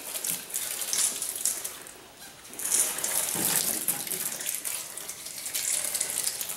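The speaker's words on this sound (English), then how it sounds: "I'm gonna go ahead and uh, give it a quick rinse. Get all that dirt. Again, just low pressure is all you need." Low-pressure water from a hose nozzle rinses the engine bay of a Porsche Cayenne Turbo, a steady close hiss and splatter that swells and dips as the spray moves across surfaces, with no talking.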